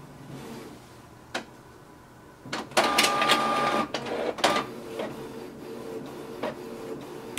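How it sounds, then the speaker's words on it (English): A Canon Pixma TR4550 wireless printer starts a page: a click, then a loud mechanical whirring feed lasting about a second, followed by scattered clicks and softer motor ticks. "So you can see it has immediately started to print."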